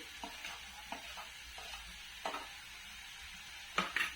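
Meat is stirred into spices in a pan. The quiet, low sizzle is broken by periodic scrapes and taps of the spoon, and a louder clatter comes near the end.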